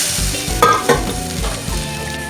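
Water goes into a pan of sizzling masala with fish roe, and the loud frying bursts into a few sharp surges before settling into a steady, close hiss and bubble. A utensil knocks and stirs in the pan, and nobody speaks.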